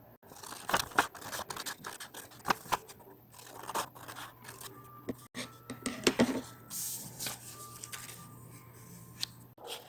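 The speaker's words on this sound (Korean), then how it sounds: "그리고 이 크기를 따라 가위로 자릅니다." Scissors cut through origami paper in a series of crisp, close snips and scrapes, quiet and irregular, with no talking.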